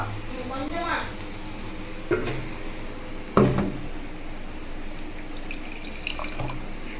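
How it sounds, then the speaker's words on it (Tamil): Water trickles and splashes into a pot of boiling milk, with a few sharp clinks and a soft bubbling hiss underneath, close by while a voice speaks intermittently. "லைட்டாக தண்ணி ஊற்ற சொல்கிறாருங்க"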